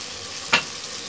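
Salt, red chilli and turmeric powder are sautéed in a pan, producing a short, steady sizzle with one brief louder scrape or spatter in the middle, close and without speech.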